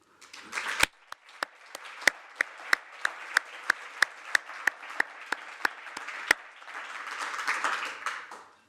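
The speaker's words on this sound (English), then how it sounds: "And I think it simply deserves a round of applause." An audience at a policy outlook launch applauding, starting with a few sharp claps that swell into steady clapping before fading out.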